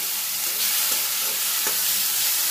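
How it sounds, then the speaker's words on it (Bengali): Ginger and green chili paste sizzling and frying in hot oil with tempering spices for a koi fish and taro curry, a steady close hiss with a few faint stirring scrapes. "এবার এর মধ্যে আমি আদা আর কাঁচা লঙ্কা বাটাটা অ্যাড করে দিই।"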